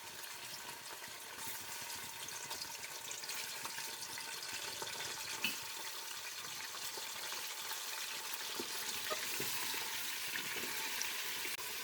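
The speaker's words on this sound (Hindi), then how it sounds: "हल्का सा जब ये कड़कड़ाने लग जाए तो फिर हम इसमें गोश्त डाल देंगे।" Mutton sizzling in hot oil with whole spices like black pepper and cloves, a steady, faint hissing crackle that runs evenly throughout, with occasional small pops and no talking.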